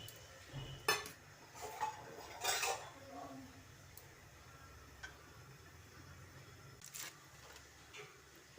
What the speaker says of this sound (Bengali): কড়াই বসিয়ে দিলাম, তার মধ্যে সামান্য জল দিয়ে দিলাম